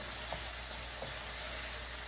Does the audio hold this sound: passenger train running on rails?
no